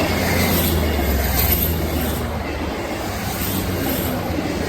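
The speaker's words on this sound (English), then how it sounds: "I've got a train in the background" Continuous broad rumble and hiss of a train at Kingmore Yard rail yard in Carlisle, steady and fairly loud throughout with no voices.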